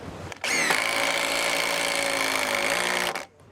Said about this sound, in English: this screwdriver's making such an impact